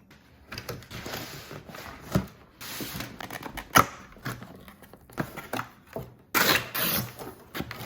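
Cardboard packaging of a PS5 disc edition box being cut open, heard as a series of close scraping, tearing and rustling bursts with clicks and handling noises, irregular and fairly loud, with no talking.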